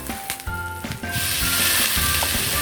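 Sliced pork belly stir-frying in a pan for a sweet Chinese-style pork dish, a loud steady sizzle that swells and stays dense throughout, with scraping stirring strokes up close.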